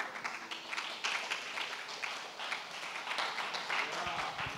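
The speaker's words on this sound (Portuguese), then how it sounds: "Vamos aplaudir, vamos aplaudir." Church congregation applauding together, a steady wash of many hands clapping at moderate volume throughout, with a preacher's voice carrying over it.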